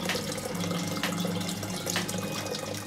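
Water runs steadily from a Golgotha feature in a nativity scene, a continuous even splashing trickle like a tap filling a basin, with no pauses and no voices.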